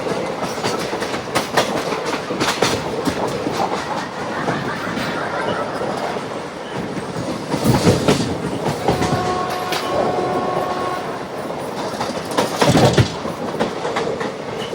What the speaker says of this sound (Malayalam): ICF ട്രെയിൻ എന്നൊക്കെ പറയുമ്പോൾ പഴയ കോച്ച് നല്ല രസമല്ലേ.